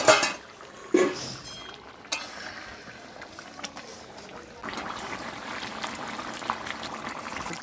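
Chicken curry simmering in a covered pot over a wood-fired clay stove, a lid knock near the start, then a steady soft bubbling hiss that grows fuller and denser toward the end, with no talking.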